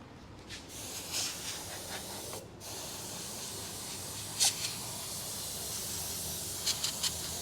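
Colour is sprayed in a workshop, a steady close hiss of spraying running almost continuously, with brief pauses and a few sharper bursts.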